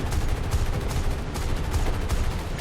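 Rapid .50 calibre machine-gun bursts from a P-63 fighter in a flight combat video game, a dense continuous rattle of gunfire lasting the whole stretch, loud and steady with no talking.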